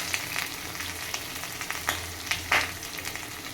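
Potato and tomato frying in a pan, with a steady close sizzle and occasional stirring scrapes and clinks, no talking.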